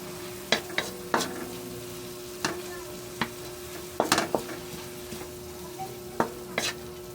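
Alamang shrimp paste sautéed in a pan with a spoon stirring, soft continuous sizzling under repeated scraping taps and clacks of the utensil against the pan at an irregular rhythm.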